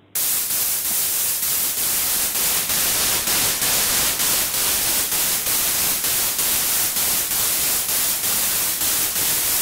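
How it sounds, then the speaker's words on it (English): Filtered white noise from a software synth in FL Studio, a continuous loud hiss with steady faint pulsing that holds for the whole stretch, no voices. "the higher pitch frequency the white noise will be"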